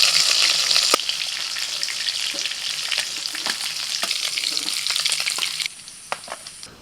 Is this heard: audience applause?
no